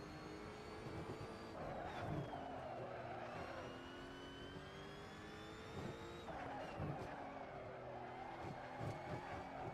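A Lotus Evora GTC race car lapping Zandvoort in Assetto Corsa, its engine whining steadily through the gears with repeated upshifts and rising revs, heard alone at a moderate, even level.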